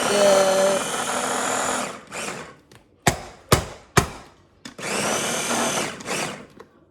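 Ginger and garlic being chopped for a seafood bake sauce produce a loud, continuous whirring buzz from a food chopper, broken by several sharp sudden bursts and then resuming in steady whirring runs.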